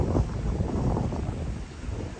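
Gusty wind buffets the microphone on the High Line in New York City on a cloudy day, a close, low, roaring rush that swells and eases without a break and with no talk.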